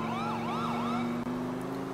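A wailing electronic emergency vehicle siren in GTA 4 sweeps up and down in quick repeating cycles over a steady engine hum, loud and close, with no talking.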